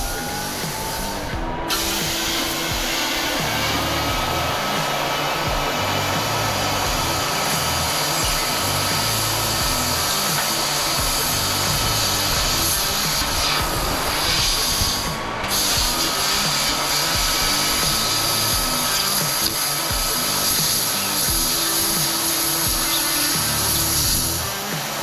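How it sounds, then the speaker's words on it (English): A small plasma cutter slices a hole through metal up to about half an inch thick, giving a steady, loud hissing roar with a low buzzing hum that runs unbroken and close for the whole stretch. "So I actually love this little plasma cutter."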